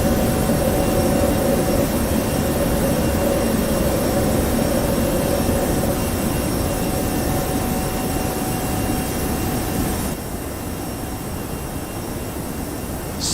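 A321 jet engines at takeoff power in X-Plane 11, a loud, steady roar with broad rushing noise and a faint high whine, dropping slightly in level near the end.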